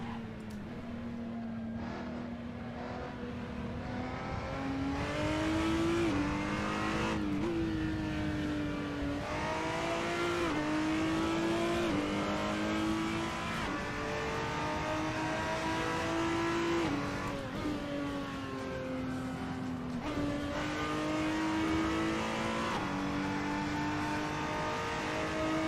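Ferrari race car engine in the video game Assetto Corsa at Mugello, a sustained high revving tone that climbs and drops through repeated gear changes and throttle lifts, loud and continuous with no talk.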